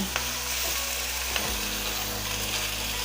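Ingredients for masala bora fry in a pan with a dense, steady sizzle close up, broken by a few light scrapes and clacks of stirring, with no voices.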